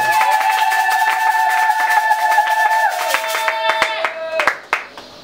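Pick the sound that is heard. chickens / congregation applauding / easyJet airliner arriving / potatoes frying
congregation applauding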